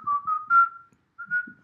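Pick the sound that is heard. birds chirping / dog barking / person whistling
person whistling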